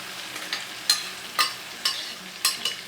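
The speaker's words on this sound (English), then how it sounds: "It's time to add my pepper sauce in here." Fiery pepper sauce cooking with gizzards in peanut oil gives a low, soft sizzle, broken by about five sharp scrapes of a utensil stirring the pan at roughly even intervals, no voices.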